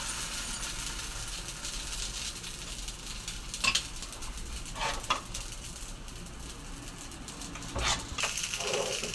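Steady sizzle of paniyaram batter cooking in a hot pan, a constant hiss with a few faint clinks and scrapes of a utensil.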